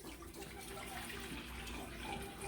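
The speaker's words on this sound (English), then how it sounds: "We'll add a little water in the dish." Water runs steadily into a dish used for pickling chicken feet, a continuous close splashing pour lasting the whole moment.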